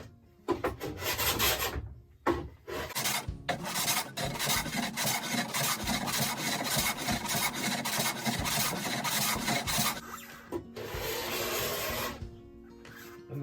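A tool rubs and rasps across the surface of an 8x4 plywood sheet, a steady close scraping that breaks into short bumpy skips and gaps over uneven patches before running smoother.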